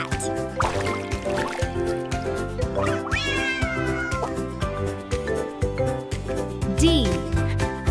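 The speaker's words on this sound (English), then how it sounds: "C is for cat." A cat meows over a bright children's music backing, a few drawn-out mews rising and falling across the passage, clear and close.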